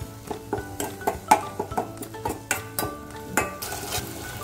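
A spoon stirs ginger garlic paste frying in a pan for egg sambar, scraping and clinking against the metal in a steady rhythm of close, repeated strokes over a low sizzle.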